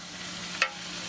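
Liquid nitrogen boiling as spiders are dropped in to be frozen: a steady soft hiss with one short, sharp crackling burst midway, fairly quiet and with no talking.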